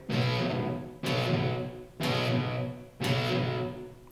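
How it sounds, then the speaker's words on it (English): Electric guitar with heavy distortion and slapback delay, Marshall-stack style, playing four evenly spaced chord hits about a second apart, each ringing bright and thick before it decays. Loud and close, with no voices. "Playing with a lot of distortion. As he does through his Marshall stacks back in the day. Also have a little bit of slapback delay,"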